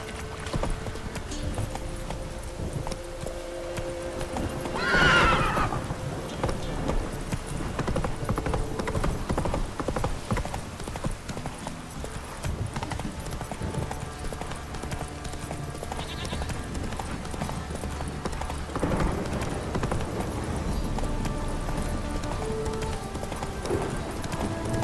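Roach, a horse in The Witcher 3, gallops with continuous rhythmic hoofbeats under game music and ambience, with a short sharper flare partway through and a snort-like swell later.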